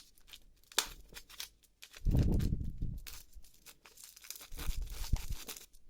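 A pepper seed packet from a hobby growing kit is torn open by hand, giving close crinkling and tearing bursts, with a louder sustained rip in the middle and more crumpling rustles toward the end.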